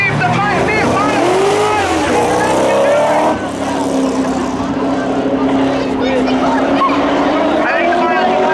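A Crown Victoria and a Corvette drag race on the Hudson Speedway oval, their engines climbing in pitch and roaring continuously, loud and fairly close, with a brief dip before the motors settle into a sustained drone.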